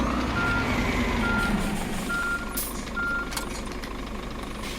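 A reversing truck in the On The Road truck simulator game sounds its backup alarm, a faint steady series of evenly spaced beeps over a low engine rumble.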